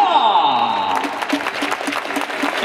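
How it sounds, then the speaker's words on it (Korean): An audience applauds the 2022 rookie players at a baseball game, with steady clapping rising in after a sustained tone and continuing evenly to the end. "응원의 박수를 부탁드리도록 하겠습니다"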